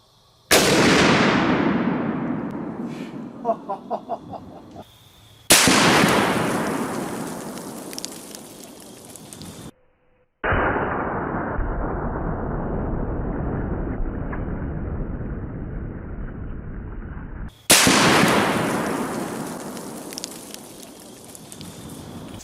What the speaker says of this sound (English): Let's hit this 380-pound Atlas stone with a 50 BMG.